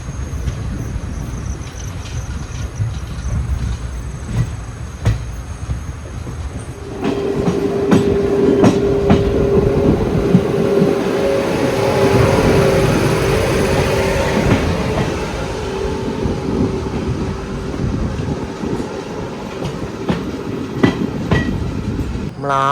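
The Jamnagar–Gandhidham–Tirunelveli Humsafar Express rumbles past close by at a station near Honavar, its wagons clattering steadily over the rails for most of the stretch, with a rising roar partway through.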